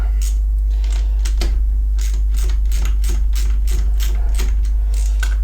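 A 3/8 drive ratchet turning bolts on a Suzuki RG125 engine, clicking in quick rapid runs of pawl ticks separated by brief pauses, close and clear over a steady low hum.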